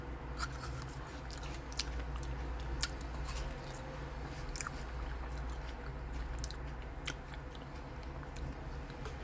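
A peach-flavored Apeach ice cream bar with a crisp outer coating being bitten and chewed close to the mic, giving repeated sharp crunches at an irregular rhythm over quiet background, with no talking.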